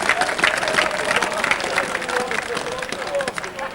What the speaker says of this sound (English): Hobbs gets a good, generous round of applause there from the Bradford spectators